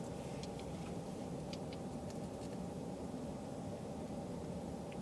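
A car heater fan blowing inside a parked car, a steady, even broadband whoosh with low rumble, continuous and fairly quiet throughout.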